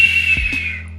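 A person imitates a whistle signal with a steady, high, clear whistled tone that lasts about a second, close and fairly loud, alone.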